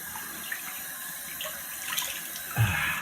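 Cold water runs steadily from a tap into a sink, a continuous splashing hiss with a brief heavier gush near the end.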